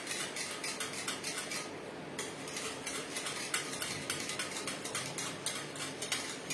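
A whisk rattles quickly against a bowl while custard is mixed, a busy, continuous scraping and clinking with steady rhythmic strokes and no talking.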